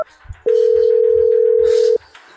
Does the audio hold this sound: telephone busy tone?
yes